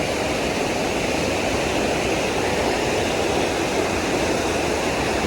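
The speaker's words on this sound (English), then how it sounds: "It's bubbling. Why is it bubbling?" Water gushing steadily from a natural spring in Mestia, Georgia, a dense, unbroken rushing hiss with no pauses, close and fairly loud, with no voices.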